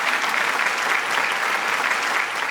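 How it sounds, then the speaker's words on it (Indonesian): Steady applause from an audience welcoming judges at an antique-appraisal competition, a dense continuous wash of clapping with no voices on top. "Mari kita berikan tepuk tangan."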